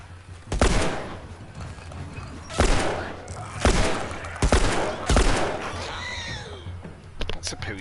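Gunfire in The Last of Us: several sharp, loud broadband shots spaced a second or so apart over a steady low game soundscape, with someone talking between and over them.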